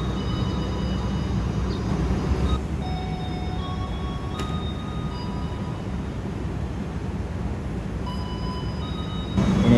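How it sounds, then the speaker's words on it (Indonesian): A KRL electric commuter train rolls forward after being held at a signal, a continuous low rumble of wheels on track with faint electrical whines, steady and fairly close throughout. "Ini dia KRL tadi yang tertahan di sinyal masuk, akhirnya bisa jalan."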